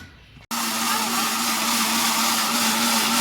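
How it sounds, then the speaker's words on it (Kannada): A mixer grinder blending a mango milkshake starts abruptly and runs with a loud, steady whirring hum, close by and continuous, with no voices. "ಈಗ ಅವನಿಗೆ ಮಿಕ್ಸಿ ಮಾಡಿಕೊಡ್ತೀನಿ ನಾನು"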